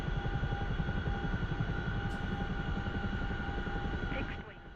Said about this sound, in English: So, as I said, this helicopter is incredibly easy to fly.